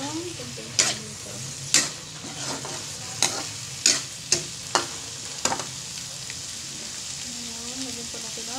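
A mix being sautéed in a pan for pork adobo with tofu sizzles steadily while a spatula scrapes and knocks against the pan in roughly regular strokes, and faint voices come through now and then.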